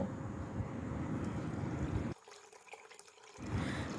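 Soaked chana dal being rinsed in water in a bowl, with a steady wash of splashing and trickling that drops away briefly before resuming, close and alone.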